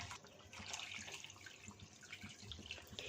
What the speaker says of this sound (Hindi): इसमें 2 बड़े गिलास यानी 600 ml पानी शामिल करेंगे।